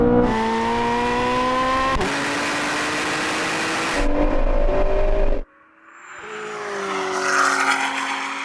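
A Ford GT and a Corvette Z06 accelerate hard in a rolling drag race from 50 mph over a half mile. Loud engine roars climb through several gear shifts, then drop away sharply before another engine swells in the distance.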